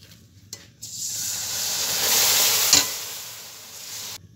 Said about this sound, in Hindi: देखें हमने सारी चाशनी डाल दी है, अब इसको मुसलसल चलाते रहें